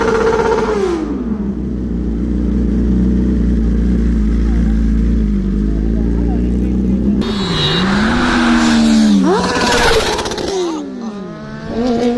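A BMW S1000RR M Sport Edition superbike and a Ducati rev loudly nearby, engines climbing and dropping in pitch with sharp throttle blips, then pulling away with rising acceleration.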